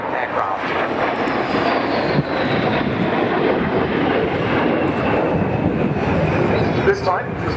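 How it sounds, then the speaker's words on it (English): Two Polish Air Force Sukhoi Su-22 swing-wing jets make a flying pass at an air show, a loud sustained roaring engine noise with a commentator talking over it. "Coming in then for their first pass, these two Polish Air Force Su-22s"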